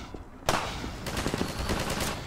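Enemy gunfire in Half-Life 2 Episode One, a sudden loud burst of rapid automatic shots that keeps rattling on after the initial crack.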